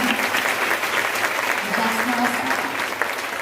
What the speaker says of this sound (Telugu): గట్టిగా చప్పట్లు కొట్టి ప్రభు నామమున